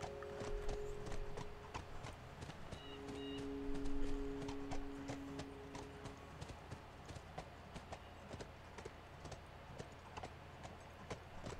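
Horse hooves trot in a quick regular clip-clop rhythm through a Last of Us game scene, fairly close and steady, with a faint tonal hum underneath.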